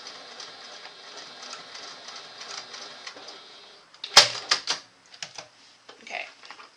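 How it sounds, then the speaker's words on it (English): A sewing machine base stitches a label onto fabric for a tiny zip case, a rapid rhythmic mechanical whirr of stitching that stops, followed by a few clicks and handling noises nearby. "I'm just going to base stitch my label into place."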